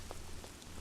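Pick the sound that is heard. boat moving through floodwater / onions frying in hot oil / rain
rain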